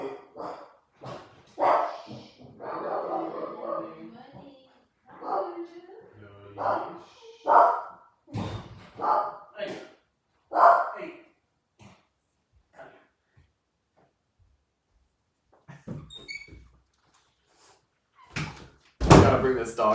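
A dog barks in scattered bursts indoors, mixed with frequent talking, a door sound and a loud bark near the end.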